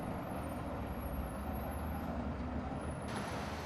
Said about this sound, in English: here comes a heavy construction truck carrying a digger